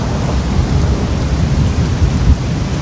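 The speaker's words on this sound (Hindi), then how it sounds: "बादल गरज रहे हैं, बिजली चमक रही है और बारिश आ रही है" Violent thunderstorm with rolling thunder and heavy rain, a dense steady roar of downpour with low rumbling throughout, loud and continuous with no talking.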